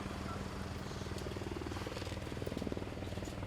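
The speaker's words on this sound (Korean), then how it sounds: "방금 화면에 보신 육군 11항공단 수리온 수송 헬기는 최초 국산 군용 헬기로" An Army KUH Surion transport helicopter flies overhead during a disaster-response drill, its rotor producing a steady, fast rhythmic thudding beneath a broad engine roar that fills the whole stretch without pause.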